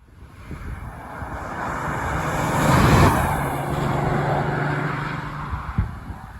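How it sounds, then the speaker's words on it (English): A car on Bridgestone Turanza 6 touring tyres speeds up to about 60 mph in fifth gear and turns into a corner, giving a steady broadband road and engine roar that swells midway, with no talking. "And we'll get up to 60 miles an hour and then turn in."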